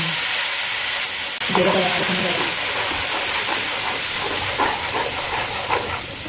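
Ground chilli and turmeric spice paste with a splash of water sizzling and hissing in a hot pan, a steady loud fry that flares sharply partway through and continues alone.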